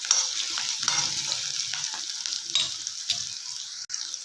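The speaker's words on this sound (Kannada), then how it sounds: "ಈರುಳ್ಳಿ ಸ್ವಲ್ಪ ಮೆತ್ತಗಾಗೋವರೆಗೆ ಹುರ್ಕೊಳ್ಳೋಣ." Onions fry in a pan for spicy macaroni pasta, giving a dense, even sizzle close up with faint stirring scrapes and no voices.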